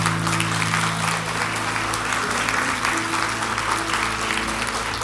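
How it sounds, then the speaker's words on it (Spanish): Continuous applause from a church congregation filling the whole clip, dense and steady at a moderate distance, with faint sustained tones underneath. "puede aplaudir, puede aplaudir"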